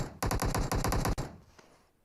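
Prone gunfire in the mobile battle-royale game PUBG Mobile: a tight burst of about eight rapid automatic shots, loud and close, then a fading echoing tail with no talking.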